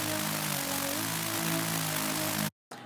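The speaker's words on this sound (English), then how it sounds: "So the Geiger counter kind of sounds like this." A synthesized Geiger counter patch built in Serum gives a dense, harsh hiss with a steady drone under it, loud and unbroken, then cuts out suddenly to brief silence before it returns.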